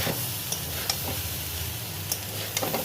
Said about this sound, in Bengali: এবার নাড়াচাড়া করে নামিয়ে দেবো।